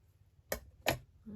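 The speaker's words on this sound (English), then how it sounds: "Just going to cut the curvy wavy section off" Scissors snip through paper while trimming a curvy, wavy section for a junk journal: two quick, crisp cuts about half a second apart, close and fairly quiet, with a softer rustle at the end.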